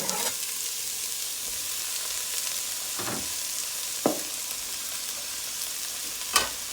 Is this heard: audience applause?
no